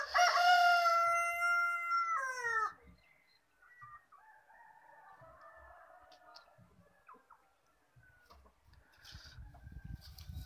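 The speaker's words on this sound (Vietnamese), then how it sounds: "Đó, sáng sớm con gà thi nhau gáy." Roosters crowing in the early morning on a cold upland farm, one loud, close crow with clear harmonics followed by quieter, more distant crows and clucks, and light rustling near the end.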